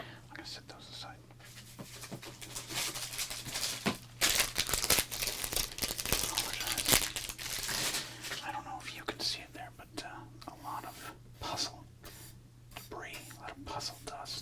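Close, crisp crinkling and sliding of baseball cards being handled and set aside, with a soft voice speaking intermittently over the rustling.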